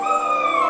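German Shepherd puppies crated for training cry in a sustained, loud, high-pitched whine that holds steady and close, with no other sound around it.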